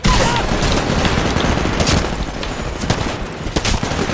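Rapid gunfire from a smart pistol in the Titanfall multiplayer beta fills the mix, with dense bursts of loud shots, booms and crashing impacts running continuously amid busy game action.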